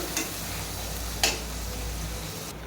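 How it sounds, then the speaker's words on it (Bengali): Onions and chilies stir and sizzle in hot oil in a kadai, a steady frying hiss with two distinct clinks of a spatula against the pan. "তারপরে ভালো করে নাড়াচাড়া করে ভেজে নিব।"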